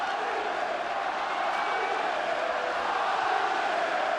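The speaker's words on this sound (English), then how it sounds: "This crowd is going absolutely nuts." A basketball arena crowd at a FIBA World Cup Asian qualifier between Syria and Korea roars in a steady, dense wash of cheering that holds evenly throughout, with no clear individual voices standing out.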